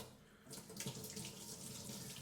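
Cold water runs from a kitchen tap into a sink to fill a Brita filter pitcher, a steady close splashing hiss that grows brighter as the stream settles, with no voices.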